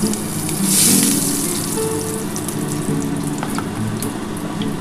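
Black cumin seeds sizzle in hot oil, starting a potato and tilapia curry, with a brief louder hissing burst near the start that settles into a steady close frying crackle under faint low hum.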